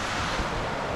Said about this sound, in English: Right there is the edge of the waterfall.